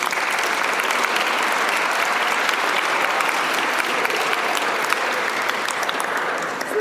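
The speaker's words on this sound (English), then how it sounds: "So big round of applause for you again." Sustained audience applause at a party after speeches, dense steady clapping from a crowd that holds evenly for several seconds before easing slightly at the end, with no voices standing out.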